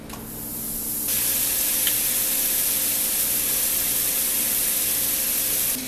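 Gyro burger patties sizzling in a hot pan, a loud, steady hiss that flares up after a second and holds without a break, close and alone.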